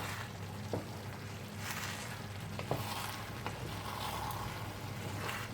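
Paella with freshly added parsley simmers in a pan while being mixed, giving a soft, steady sizzle with occasional light scrapes and taps of the spoon, fairly quiet and close.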